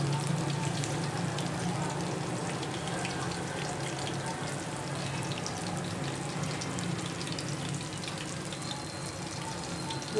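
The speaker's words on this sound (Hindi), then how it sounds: "गोल्डन ब्राउन होने तक इसको फ्राई करेंगे।" Food sizzles steadily in a hot pan while frying until golden brown, a constant crackling hiss at moderate volume with no breaks, heard close by.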